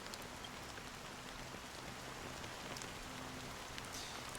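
Steady fine rain in Honkai Star Rail, a soft continuous patter of drops with faint scattered ticks, quiet and unbroken throughout.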